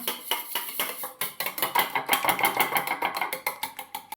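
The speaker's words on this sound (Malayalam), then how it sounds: "നമുക്ക് മഞ്ഞക്കറി മാത്രം ഒന്ന് മിക്സിയിലാക്കാം" Egg yolks whirring in a kitchen mixer grinder for a bun omelette, a loud continuous grinding drone with a rapid rhythmic pulsing throughout and no talking.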